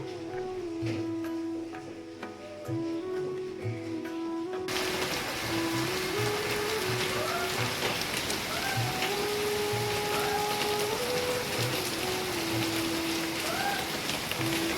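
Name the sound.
rain falling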